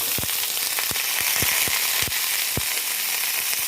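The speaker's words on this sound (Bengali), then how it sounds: "পটলগুলোকে হালকা একটু ভেজে নেবেন তেলের উপরে" Pointed gourd pieces fry lightly in hot oil with a loud, close, steady sizzle, cut through by sharp crackling pops at irregular moments, and no voices.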